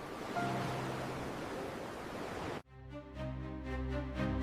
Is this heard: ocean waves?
yes